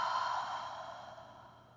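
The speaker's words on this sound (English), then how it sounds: "Open the mouth, exhale." A long open-mouthed exhale in a yoga breathing practice, close and breathy, loudest at the start and fading slowly, alone with no talk.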